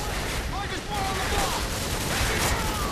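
Dense gunfire from the video game Modern Warfare 2, a steady fusillade of shots blending into a continuous loud barrage, with a voice faintly mixed in.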